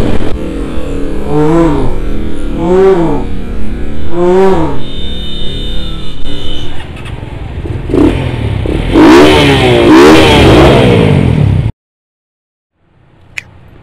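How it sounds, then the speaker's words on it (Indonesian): Honda Tiger motorcycle ridden fast at night: repeated engine revs rising and falling in pitch, building to a louder, harsher rev near the end before cutting out abruptly, heard up close with wind noise and no speech. "Bawa motornya kencang-kencang amat ya."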